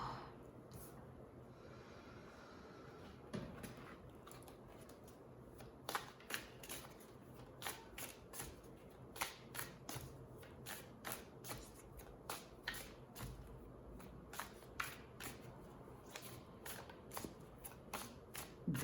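Tarot cards shuffled in a steady run of soft, papery riffles and flicks, faint and close, picking up into a quicker rhythm of sharp snaps toward the end with no talking.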